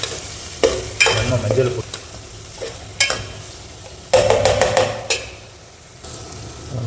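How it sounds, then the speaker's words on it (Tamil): Onion sautés in a pan with turmeric for a brinjal kulambu, bursts of sizzling and repeated spatula scrapes and clatters in uneven rhythm, close by, with a voice speaking briefly. "அப்படியே வதங்கட்டும். இப்போ வேலி அப்படியே போட்டுடலாம். வதங்கட்டும் அப்படியே வெங்காயம்."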